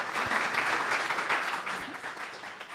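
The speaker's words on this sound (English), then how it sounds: "So I think we can give a warm applause to Neha." A small audience at a marketing meetup gives a short round of applause for a speaker, a close, even patter of clapping that eases off slightly toward the end.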